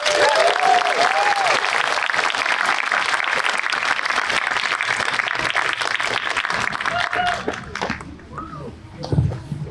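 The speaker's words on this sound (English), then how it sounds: "Another round of applause, please, for Mr. Quest Johnson." A crowd at a fifth-grade culmination ceremony applauding loudly and steadily for several seconds, with scattered voices and a few whoops mixed in, before the clapping thins out and a voice speaks near the end.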